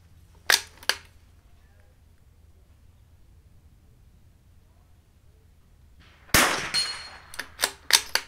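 Rifle shots fired during an NRL22 match stage at a shooting range: two sharp cracks near the start, a long quiet pause, then a quick string of several more shots close together.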